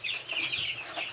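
Backyard chickens clucking around a feeder at dinner time, a short burst of close, soft clucks and murmurs, with no talking.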